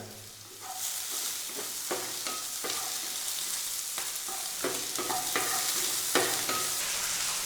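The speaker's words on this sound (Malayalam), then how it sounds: "മുറിച്ച് വച്ചിരിക്കുന്ന ഉള്ളി, വെളുത്തുള്ളി, ഇഞ്ചി എന്നിവ പാത്രത്തിലിട്ട് നമ്മൾ വഴറ്റിക്കൊണ്ടിരിക്കുകയാണ്" Chopped onion, garlic and ginger sautéed in a pan for bean curry, a continuous sizzle broken by repeated rhythmic spatula scrapes and taps against the pan, close and clear, with no one talking.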